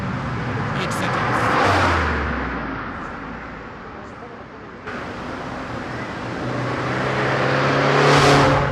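Suzuki Swift Sport accelerating hard through the gears, a rising engine roar with audible shifts and a brief dip near the middle, loud and continuous, with a voice speaking over it.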